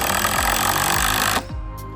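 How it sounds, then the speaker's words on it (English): A power drill pre-drills screw holes into the top rail of a cedar fence gate before hardware is fitted, giving a loud, steady buzzing whir with short pitch drops as the bit bites, then cutting off near the end. "he is going to pre-drill before he puts the large screws in"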